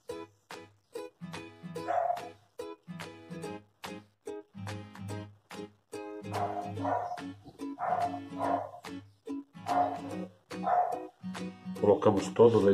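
A neighbour's dog barks repeatedly in short bursts beneath steady, continuous talking in a home kitchen, the yaps scattered throughout and fairly close.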